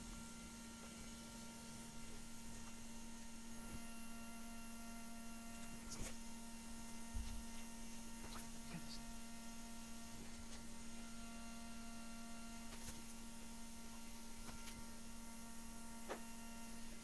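A Humminguru ultrasonic record cleaner runs very quietly with a steady low electrical hum and faint mechanical whir, broken by a few soft clicks and knocks.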